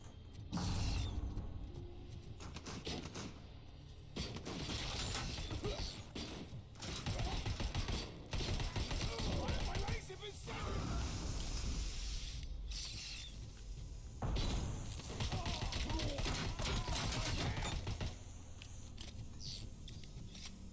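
Rapid bursts of gunfire and mechanical clatter from the video game Robocop: Rogue City, loud and dense across the whole stretch, with short gaps between volleys and no talk.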